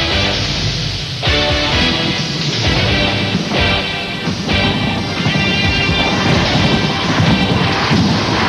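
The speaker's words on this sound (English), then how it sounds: "that was thunder right overhead of the riders into the last 4 miles of the race" Thunder cracking and rumbling right overhead during the 1992 Tour de France Stage 7 bicycle race on a wet road, a loud, continuous rolling roar with several heavier bursts across the whole stretch.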